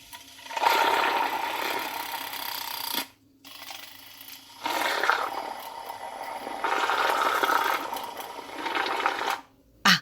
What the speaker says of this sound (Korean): 저는 닷땡소에서 구입한 거품기로 살짝 돌려준답니다